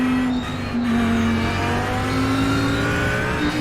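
An Audi GT3 race car howls around Watkins Glen in iRacing, its engine note loud and close, rising and dipping through gear changes with a steady, strained drone and no talk.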